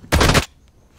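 An opponent's gun fires a quick, loud burst of rapid shots in a video game, lasting under half a second, followed by near quiet.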